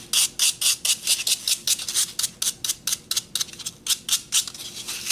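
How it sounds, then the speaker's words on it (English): A toothbrush scrapes the corners off a paper mache gravity toy in a long series of quick, rhythmic rasping strokes, close and fairly loud, with no talking. "So I cut the corners off with the toothbrush."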